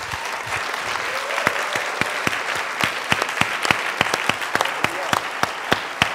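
A church congregation applauds in a sustained burst of clapping, with sharp, distinct claps standing out over a softer crowd wash, moderately loud and close.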